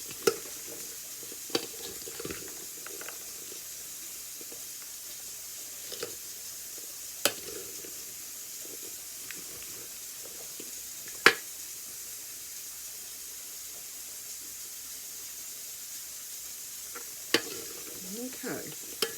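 Okra frying in a pan keeps up a low, constant sizzle as salt is stirred in, with occasional sharp scrapes and clicks from the spoon against the pan.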